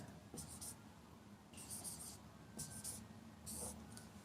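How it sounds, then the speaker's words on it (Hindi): Someone writes the number 82 on a board: a few short scratchy stroke bursts separated by pauses, faint and close over a quiet room. "82 को हम ऐसे लिखेंगे"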